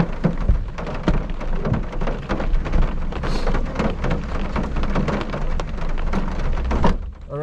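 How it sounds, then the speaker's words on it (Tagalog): Heavy rain pounding down near a school, loud and dense with constant crackling drops striking hard surfaces close by, a sustained downpour with no speech. "because it's raining"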